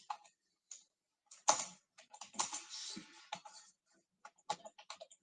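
Fingers type on a computer keyboard in short, uneven bursts of quiet, close key clicks separated by brief pauses.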